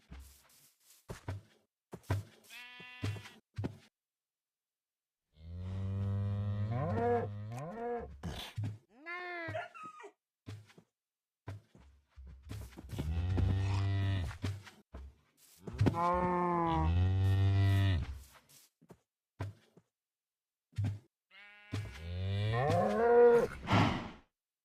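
Cows in a video game moo in several long, low, drawn-out calls separated by quiet gaps, mixed with short game clicks and thumps.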